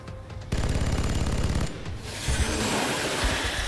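A heavy robot's mounted cannon in the XCOM strategy game fires a rapid, loud burst of repeated shots for about a second, followed by a rumbling, noisy aftermath of impacts and debris.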